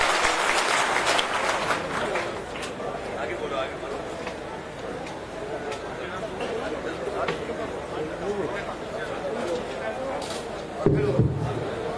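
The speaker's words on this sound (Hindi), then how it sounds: "जोरदार ताली बजाएं" Loud, sustained audience applause fills a political rally of the Bhomia Rajput community, with dense clapping and crowd hubbub throughout and a brief thump near the end.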